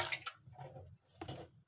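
Plates being washed by hand with running water, splashing and dripping in short irregular bursts close by, with soft clatter, no talking.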